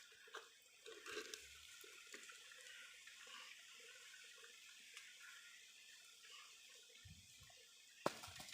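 Honey draining from a stingless bee hive into a container: a thin, quiet trickle of liquid running steadily, close by, with a few soft knocks and clinks around it and no talk.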